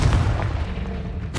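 The Confringo fire spell from the wizarding game Hogwarts Legacy explodes as a single deep, booming blast that rumbles briefly before fading, close and fairly loud.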